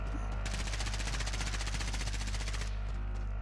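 Rapid automatic gunfire in a squad battle royale video game, a loud continuous burst of fast shots lasting a couple of seconds, up close and alone without talk.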